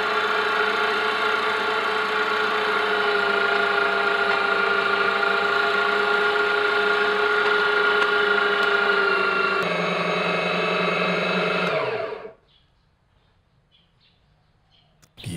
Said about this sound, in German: Fleisch und Speck sofort hinterher wolfen